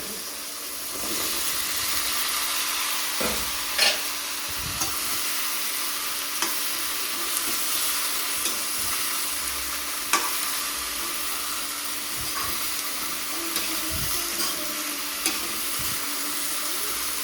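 A cumin-seasoned vegetable dish sizzles loudly in a pan in a home kitchen, a steady frying hiss broken now and then by the scrape and knock of a spoon stirring.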